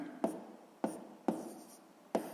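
Pen or pencil writing on paper while working a sixth-grade math exercise, four short separate strokes spaced about half a second apart, close and fairly quiet, with no talking.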